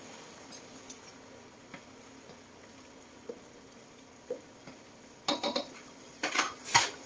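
Picadillo being stirred in a pan, scattered clinks of a metal utensil against the pan over a quiet background, growing into a quick cluster of louder scrapes and knocks near the end.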